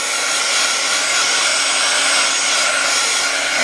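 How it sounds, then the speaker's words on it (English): A heat gun blows air from a distance onto a craft cover, a loud, close, steady rushing hiss holding constant for several seconds without pause or talking. "I told you I might resort to the heat gun a little bit, so I'm going to do it from a distance."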